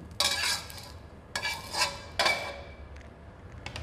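Cooked wide rice noodles are scraped and tipped from a wok into a bowl, giving three quick clattering bursts of metal and ceramic scraping, fairly faint, with a light clink near the end.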